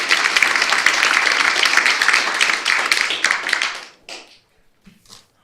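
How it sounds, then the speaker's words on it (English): Audience applause for a panel at a securities law conference, dense steady clapping that carries on for several seconds, then stops abruptly, leaving only a couple of faint scattered claps and a brief murmur. "Let's give them a big round of applause."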